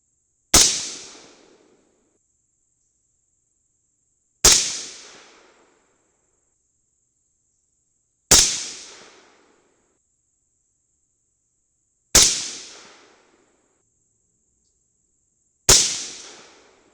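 Suppressed AR rifle firing Bob's Bulk .223 ammunition outdoors: five sharp, loud shots spaced about four seconds apart, each with a short decaying tail, and a steady high tone running between them.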